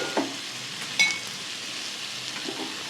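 A frying mixture stirred in a pan over a low flame, soft steady sizzle with a few scraping clinks of a spoon against the pan, quiet and close.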